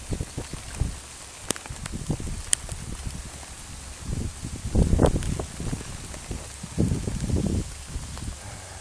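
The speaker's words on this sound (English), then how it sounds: "here comes the fucking downpour" Heavy rain from a thunderstorm in Alberta falls in a steady wash, with gusty bursts swelling around the middle and near the end; no thunder stands out clearly.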